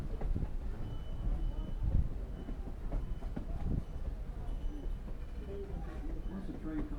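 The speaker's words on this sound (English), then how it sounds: "Once the train comes to a stop" A Lehigh Gorge scenic railroad train rolls along the tracks with a continuous low rumble and scattered wheel clacks. Faint voices can be heard beneath it.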